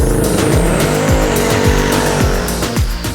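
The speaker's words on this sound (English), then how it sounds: "The Lamborghini Diablo is heading away there. Whoa, that sounds loud." A loud supercar engine roars and revs hard through rapid gear changes as it pulls away, the note rising and falling sharply.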